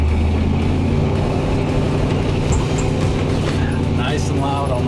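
A 1968 Ford Bronco with a cammed 5.0 engine driving along, a loud continuous low engine rumble with wind and road noise inside the open cab, and a voice faintly underneath.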